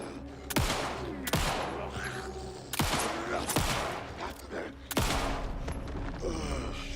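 Several loud, sharp handgun shots ring out in the video game Alan Wake 2, spaced irregularly over a few seconds against a dark, rumbling game ambience.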